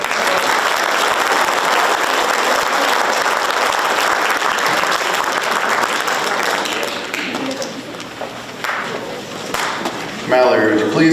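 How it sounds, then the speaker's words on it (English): A crowd applauds honorees at a high school FFA awards ceremony, sustained clapping from many hands that slowly thins toward the end as a voice begins speaking. "so if you would give them all a round of applause."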